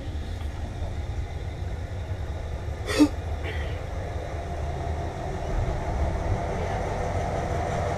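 An overnight train to Bangkok rumbles along from inside a carriage, a low steady rolling noise at moderate level with a brief sharp sound partway through and no clear talk.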